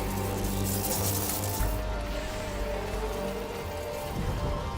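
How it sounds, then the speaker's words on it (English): Rain pattering on a helmet visor in the video game Metroid Prime 4: Beyond, a dense, steady hiss of drops over a low rumbling ambience, continuous for several seconds. "the raindrops in the visor"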